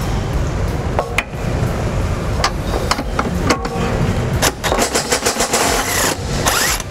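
An impact wrench fitted with an 18mm socket and extension removes tow hook bolts on a 2018 Ford Explorer, with scattered clicks and then dense, rapid hammering bursts in the latter half over steady mechanical noise.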